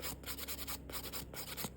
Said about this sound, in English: start filing until everything becomes one with the nail